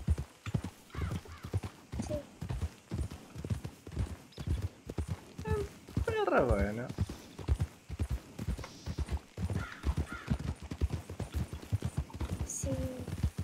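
Steady, rhythmic clip-clop of horse hooves from a horse ridden in a video game roleplay, with a whinny midway and people talking over the hoofbeats.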